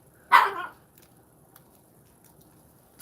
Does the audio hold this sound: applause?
no